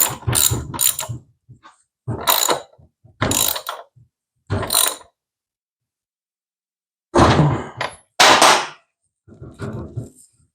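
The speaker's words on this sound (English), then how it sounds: "I am going to go ahead and tighten this axle." A ratchet tightening the axle nut on a Honda CT70, heard up close in short bursts of rapid clicking, several strokes early, a long silent gap, then two more bursts.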